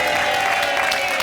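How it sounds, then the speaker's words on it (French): Studio audience applause on a TV game show, a dense steady wash of clapping held at even loudness throughout the short stretch, with no speech over it. "On applaudit bien fort nos champions"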